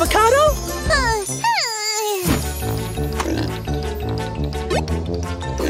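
A cartoonish pig oinks a few times over bouncy music, with squeaky voice-like squeals sliding up and down.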